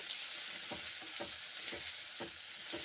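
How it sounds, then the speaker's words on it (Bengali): Pointed gourd (potol) pieces fry in mustard oil with salt and turmeric, a constant close sizzle broken by regular scraping knocks as a spatula turns them over, no voices. "পটলগুলো এখন আমি ভেজে দিচ্ছি, খুন্তি করে নেড়ে চেড়ে"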